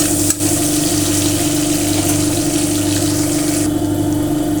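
Onions and green chillies fry in a pan for channa biryani, giving a loud, steady sizzle that runs without a break and without talk.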